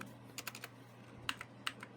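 Quick keystrokes on a computer keyboard while entering a command, a short burst of several light taps followed by a few sharper clicks, close and clear against a quiet room hum.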